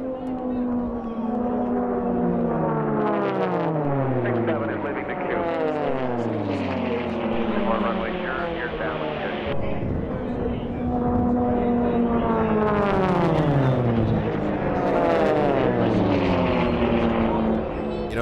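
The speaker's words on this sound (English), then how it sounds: "you can't wind a Lycoming engine much tighter than Jeff Lavelle does on race number 39" A Lycoming-engined race airplane, race number 39, flies past at an air race championship, its propeller drone sweeping down in pitch twice as it passes, loud and continuous.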